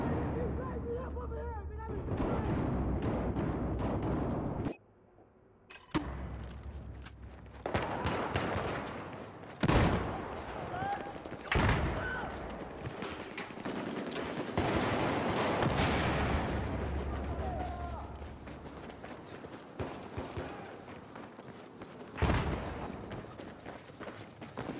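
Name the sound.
sidearm gunfire in video game Battlefield 3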